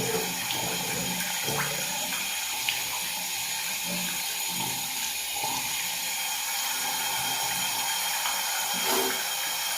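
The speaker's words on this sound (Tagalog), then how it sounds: "Magwawash ako ng aking mukha." Tap water runs steadily into a sink while someone washes their face, a continuous watery hiss with small splashes and clicks throughout, close by and with no talking.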